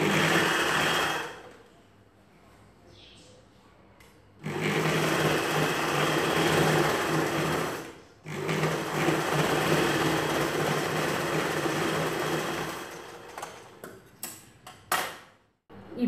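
A sewing machine stitching satin lining cloth for a net salwar dress, its motor whirring loud and close in long continuous runs with short pauses, ending in a few brief, stuttering bursts.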